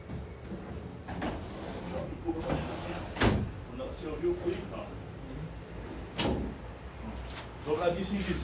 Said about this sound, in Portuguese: Eu vou encaixar as gavetas agora